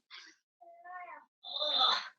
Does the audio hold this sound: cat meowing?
yes